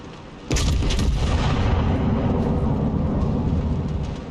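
A heavy battleship salvo in the video game booms out at once, followed by a long, loud rolling rumble that slowly fades, with no voices.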